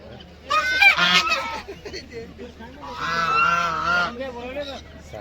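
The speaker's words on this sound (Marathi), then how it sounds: "हा काय बदक आहे का काय कोणाटाव, सारखं नाही नाही नाही नाही नाही करलाय" A goose honks again and again at a farm exhibition, two loud close bursts of nasal calls over a faint background murmur.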